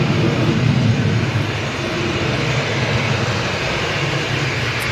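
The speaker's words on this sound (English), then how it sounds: "that Ryanair is now moving towards us" A Ryanair airliner taxis toward the listener at Manchester Airport, its engines a steady, loud, even drone with a low rumble underneath and no talking.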